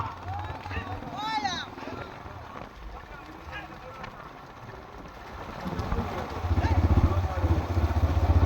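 A motorcycle rides alongside a village race near Boothalapuram in Thoothukudi district, its engine swelling into a loud, low drone toward the end beneath excited announcing and crowd chatter.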